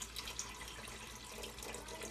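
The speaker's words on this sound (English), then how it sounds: "Let's go ahead and add a little bit more water." Water pouring into an Instant Pot's inner pot, a faint steady trickling splash that runs the whole time at close range in a quiet kitchen.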